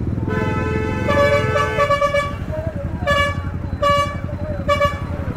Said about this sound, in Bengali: আর পেছনে বাসটা শুধু হর্ন দিচ্ছে, কি লাভ হর্ন দিয়ে ভাই।